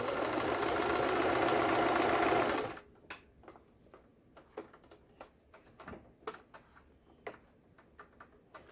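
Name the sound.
Juki HZL12z sewing machine sewing zigzag stitches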